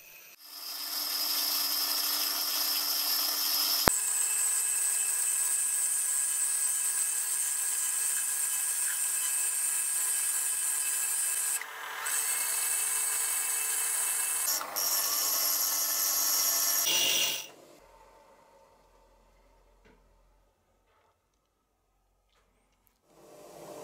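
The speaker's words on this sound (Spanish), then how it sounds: "Y le doy forma a la punta en el esmeril." A high-pitched whining bench grinder runs loudly and steadily with grinding changes as the tip of a threaded rod is pressed to it and shaped, then winds down into near silence.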